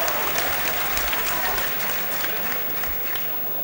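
Audience applause at a robot tracking competition, a dense steady wash of many hands clapping throughout, with faint crowd noise and no clear talk over it.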